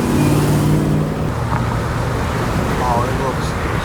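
A C6 Corvette driving on the road makes a loud, steady roar of road and wind noise throughout, with a low engine drone more prominent in the first second.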